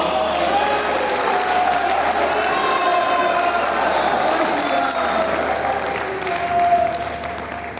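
Sustained audience applause with some cheering fills a large pavilion tent at an all-India poetry gathering, a steady dense clapping that swells slightly near the end.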